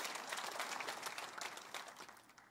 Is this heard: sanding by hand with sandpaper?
no